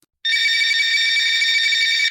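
A telephone rings with an incoming call, one long, loud, sustained electronic trill that starts abruptly after a brief silence and holds steadily for about two seconds.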